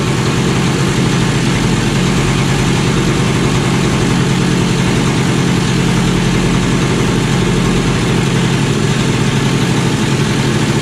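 Kawasaki KE100 motorcycle engine idling steadily and loudly up close while warming up, with a carburetor needle being adjusted; an even, continuous drone throughout with no break.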